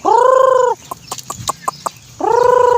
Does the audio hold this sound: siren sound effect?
no